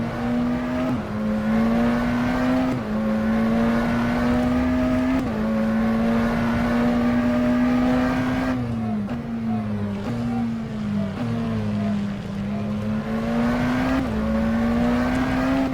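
McLaren Senna GTR race car engine in rFactor 2, a loud sustained drone that climbs in pitch through the gears with sharp drops at each upshift, heard alone and close.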